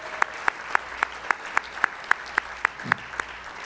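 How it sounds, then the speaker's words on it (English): Applause rises at a YMCA annual celebration, heard as sharp, evenly spaced claps in a steady rhythm close by, with a soft murmur underneath. "Let's give Ryan another round of applause for his great support of our Y."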